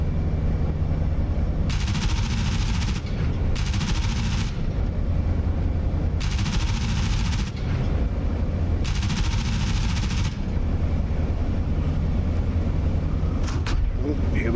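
Eight .50-caliber machine guns of a P-47 Thunderbolt firing in the DCS flight simulator, four loud bursts of roughly one to one-and-a-half seconds each over a steady engine roar.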